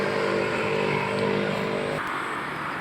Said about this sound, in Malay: Ini tempat parking kereta, kawan-kawan lah.